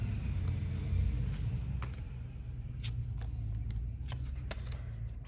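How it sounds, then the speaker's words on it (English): Low rumble of a garbage truck passing outside, a steady deep drone under light close papery card-handling clicks and riffles indoors. "That's the garbage truck."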